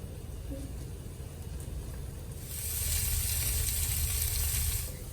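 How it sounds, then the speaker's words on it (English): Steady sizzling in a hot pan of diced peppers and onions grows louder and hissier midway as lentils are added, a continuous crackling fry with no talking. "We're going to add them to our simmering diced peppers and onions."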